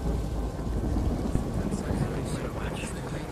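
Heavy rain pours steadily with low rumbling thunder in a stormy VRChat game world, a dense continuous wash of noise with faint voices mixed in underneath.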